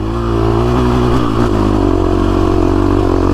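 A KTM 350SX-F motocross bike rides off-road and shifts up, its engine loud and close with a brief dip in revs at the gear change before the note climbs steadily again.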